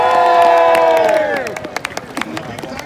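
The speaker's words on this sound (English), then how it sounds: "Let's have, first of all, a big cheer for our ground crew who worked so tirelessly today." A crowd cheers loudly for the ground crew at an outdoor riding event with skill-at-arms competition, a sustained roar of voices that fades after a second or so into scattered claps and shouts.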